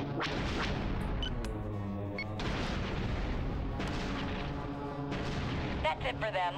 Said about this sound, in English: Several missiles, in fact.